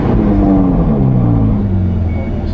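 Ferrari 488 GTB with an Fi Exhaust system revving in sport mode, its loud engine note climbing and falling in smooth sweeps as the throttle is worked, close by with no talking.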